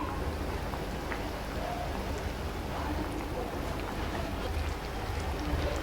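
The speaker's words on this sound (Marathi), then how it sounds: "त्या वांग्याला एक छान अशी मोठी उकळी आली आहे" Stuffed green brinjals simmer at a rolling boil in a pot, giving a soft, steady, even bubbling that stays constant throughout with no voices.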